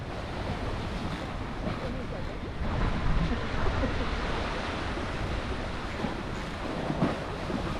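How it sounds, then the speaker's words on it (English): Ocean waves roll in and crash against a sea wall on a Hawaiian shoreline, a continuous roar with heavier surges and wind buffeting the microphone. "Soothing with the waves, of course, crashing against the wall."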